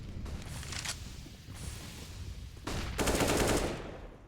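Rapid automatic gunfire sprays through smoke in a Counter-Strike match on the Ancient map, coming in dense bursts with short gaps between them, then a louder sustained volley near the end.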